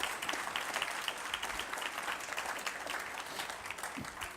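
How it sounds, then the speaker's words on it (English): A large audience at a State of the Band 2019 address applauds steadily, a dense wash of many hands clapping that holds even and full throughout without fading. "give them a round of applause"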